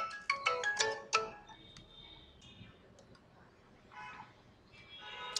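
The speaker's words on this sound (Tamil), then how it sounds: "கண்டினியூஸாக ஃபோன் கால்ஸு" A phone ringtone chirps in quick repeated electronic tones at the start, then quieter beeps and faint sounds follow against a low background.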